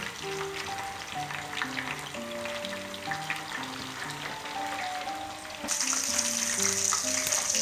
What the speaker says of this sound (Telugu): బాగా రెడ్ కలర్ వచ్చే వరకు డీప్గా మనం ఫ్రై చేసుకోవాలి